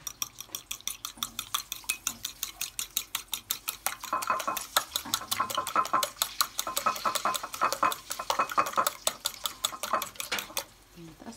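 Eggs being beaten with salt in a bowl, a fork or whisk clicking rapidly and steadily against the sides, the rhythm loosening and growing busier partway through, close and clear with no talk.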